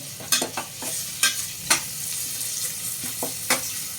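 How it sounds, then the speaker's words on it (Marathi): Ginger garlic paste and reddish onion are sautéed in a pan for spiced pea rice, a low steady sizzle broken by sharp intermittent scrapes and clinks of the spatula stirring, close and fairly loud. "आलं लसूण पेस्ट घालूया आपण. कांदा थोडासा भाजलेला आहे लालसर."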